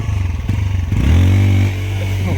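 A motorcycle engine, overheating on a ride from Mysuru toward Kotebetta, idles with a steady low throb, then revs up and holds a louder, rising drone before settling, close and alone with no talk.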